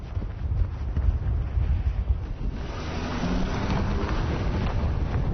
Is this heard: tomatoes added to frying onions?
no